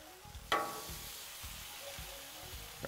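Potatoes browning on a Blackstone griddle give a steady low sizzle, with a few scrapes and stirring knocks as they are turned and a brighter clatter near the start and end.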